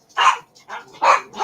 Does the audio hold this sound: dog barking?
yes